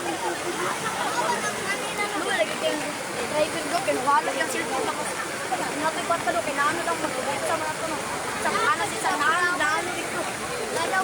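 Floodwater in Davao de Oro rushes with a continuous broadband roar, steady and fairly near, while people talk over it.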